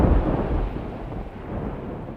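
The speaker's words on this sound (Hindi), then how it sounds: "लगता नहीं तूफान आज जल्दी थमेगा।" Heavy rain hisses steadily under a continuous low rumble of thunder in a thunderstorm, with no voices.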